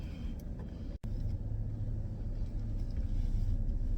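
Steady low road rumble from a car driving along, heard from inside as continuous engine and tire noise with a brief dropout near the start and no talking.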